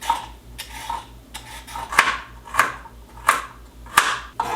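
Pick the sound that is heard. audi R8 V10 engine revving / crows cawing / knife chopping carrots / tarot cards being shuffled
knife chopping carrots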